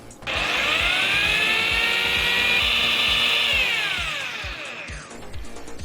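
A drill bores 3.5 mm holes through a Raspberry Pi circuit board, giving one steady, close, high-pitched whine that runs about five seconds and then drops off.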